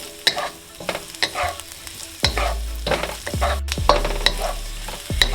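Radish cake for chai tow kway fries in a pan, with loud bursts of sizzling and repeated scraping strokes of a spatula stirring it, close and busy throughout.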